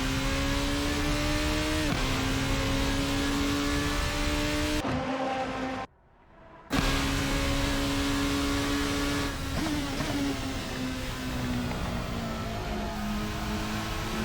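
A Formula racing car engine in the Assetto Corsa sim racing game drones at high, steady revs with a smooth tonal whine and slight pitch shifts, cutting out abruptly for under a second before resuming at full volume.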